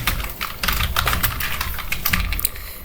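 Rapid keystrokes on a computer keyboard while Bangla text is typed into MS Word, a steady dense run of close clicks lasting throughout, with no voices.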